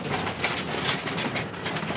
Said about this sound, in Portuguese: Aí vai o trem aí.